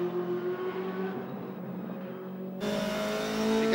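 A DTM race car at Spa in 2005 with its engine screaming at a high, steady pitch that climbs as it accelerates, loud and close, with no voices over it.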